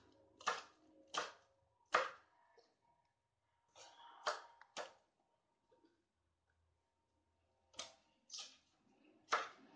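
A knife strikes a cutting board in short clusters of sharp chops with quiet pauses between them, close by and with no talking, as chili peppers just out of the freezer are chopped.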